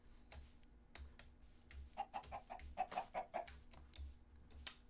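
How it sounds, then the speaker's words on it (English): A video game chicken clucking in short, quick bursts, a run of sharp little clucks in the middle amid scattered clicks, faint and close. "It's a chicken."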